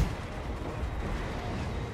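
Organ gun artillery firing in the Total War: Warhammer video game, a steady dense roar of battle noise with rapid booming bursts running continuously for about two seconds.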